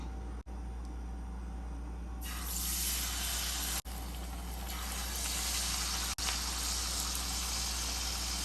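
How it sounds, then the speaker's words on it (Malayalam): Pieces of papadam are dropped one by one into hot oil and fry with a bright, steady sizzling hiss that swells louder as each piece goes in, close and without talk. "ചൂടായ എണ്ണയിലേക്ക് നമുക്ക് ഓരോ കഷ്ണം പപ്പടം എടുത്ത് ഇങ്ങനെ ഒന്ന് മുക്കി നമുക്ക് ഇട്ട് കൊടുക്കാം"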